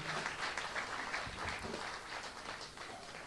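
Faint, distant audience applause welcoming a Maharashtra BJP vice-president at a public talk, an even wash of clapping that holds steady for the whole clip.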